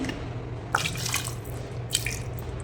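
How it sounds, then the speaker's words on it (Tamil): Water trickles and splashes steadily into a cooking pot of mutton bone gravy with potatoes, with a couple of sharper drips standing out over a low background hum. "ஸோ அதனால் தண்ணி ஊற்றிக்கலாம்."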